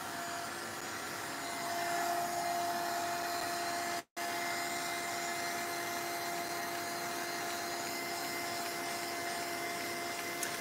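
Heat tool or dryer blowing steadily while drying paint on a craft pumpkin, a loud constant whooshing whine close by with a brief cutout partway through.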